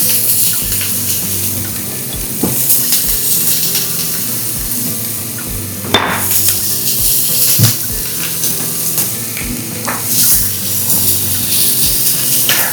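Bacon-wrapped shrimp sear in a hot pan with a steady, close sizzle and crackle, broken by occasional sharp pops and clicks of utensils against the pan, and no one talks over it.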